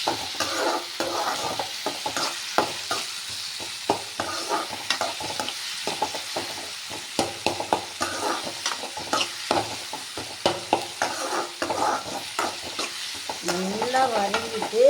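Onions and other ingredients for sambar sauté in a hot pan while a spoon stirs and scrapes in quick repeated strokes over a constant frying hiss.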